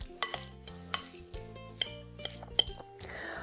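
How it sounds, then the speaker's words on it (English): Utensils clink against a pot or dish while scrambled tofu ingredients and seasonings are stirred together, giving a run of sharp metallic taps at an uneven rhythm, close and moderately loud, with a brief sizzle or rustle near the end. "Go ahead and stir the ingredients together"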